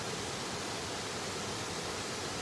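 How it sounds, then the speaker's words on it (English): A waterfall roars as a steady, dense broadband rush at moderate loudness, with no breaks or voices. "Let you have a wee look at the waterfall."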